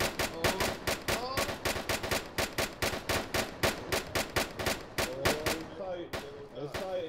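Rapid gunfire rattles through a bootcamp shooting drill, sharp shots cracking in a fast, near-continuous rhythm with brief gaps, loud and close throughout.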